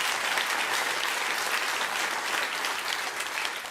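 Steady, loud applause from a large studio audience fills the whole stretch, dense clapping with no voices rising above it.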